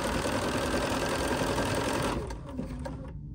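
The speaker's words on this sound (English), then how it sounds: "So let's go ahead and stitch." A Bernina sewing machine runs steadily at speed, a loud close continuous whir of stitching that cuts off partway, leaving quieter clicks as the needle stops down.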